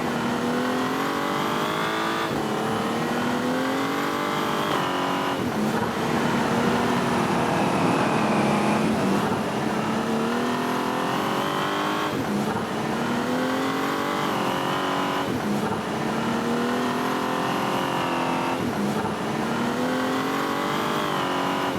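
Continuous car engine sound with revving that rises and falls in pitch in repeated sweeps, loud and steady throughout, with no voices.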